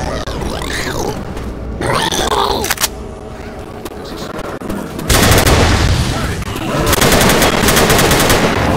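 Rifle gunfire in Left 4 Dead 2 rattles out in loud rapid bursts, pausing between volleys and then resuming in sustained automatic strings, with grunts and groans from characters mixed in around the shooting.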